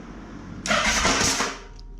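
A Yamaha Vmax motorcycle engine with freshly refitted carburettors cranks and bursts into life after a quiet pause, roaring loudly for about a second before dropping away abruptly.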